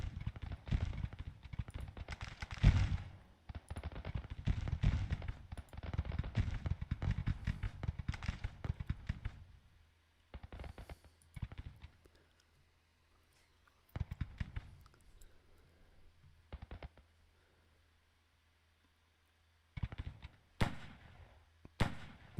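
Troops in Grand Tactician fire during a Confederate refight of Gettysburg. A sustained crackle of massed musketry dominates the first ten seconds, then thins to scattered faint bursts and isolated shots with long quiet gaps.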